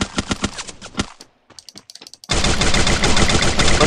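Rapid bursts of automatic gunfire crackle loudly in Free Fire, pause briefly with a few scattered shots, then erupt into a sustained, dense barrage.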